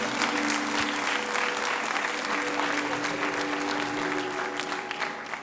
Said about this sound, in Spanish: Así que vamos a aplaudir todos juntos en el nombre del Señor.